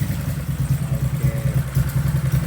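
A Honda Karisma motorcycle with its engine bored up to 148cc runs in a steady, pulsing chug, close and moderately loud, with a faint mechanical clatter and no talking.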